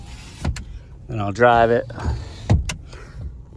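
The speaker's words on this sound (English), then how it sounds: "Show all the windows working." Power windows on a 2015 Ford F-250 Crew Cab whir up and down in a couple of short electric motor runs, fairly close, with someone talking around them.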